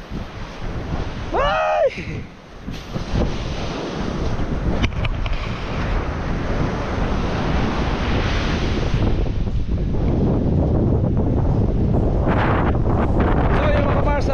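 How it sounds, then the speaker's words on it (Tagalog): Strong ocean waves crash and roar without pause on Bukana beach while gusting wind buffets the microphone. A person briefly shouts near the start. "grabe, lakas ng alon"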